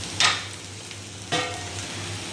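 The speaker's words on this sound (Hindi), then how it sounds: "ये हमारा तड़का जो है पकने लगा है, इसको पकने देती हूँ मैं" Spice tempering (tadka) sizzling in a pan during home cooking: a steady low frying hiss, with two brief louder bursts of crackle, one early and one midway, nearby and with no talk.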